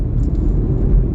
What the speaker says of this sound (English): there's a lot of traffic out today